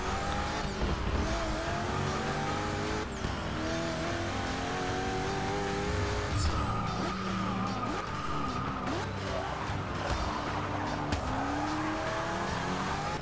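A Hennessey Venom in a racing video game roars at speed, its engine pitch rising and falling through gear shifts, with tire squeal and other cars passing close by in a steady, continuous blend.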